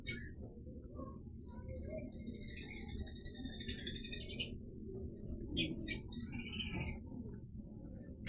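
A pet parakeet chirps in short bright bursts and warbling phrases, close by, over a steady low background rumble.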